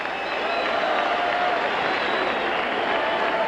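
Baseball stadium crowd cheering in the top of the ninth inning of a 1990 Blue Jays vs Red Sox game, a dense, steady roar of fans on their feet, sustained and fairly loud throughout.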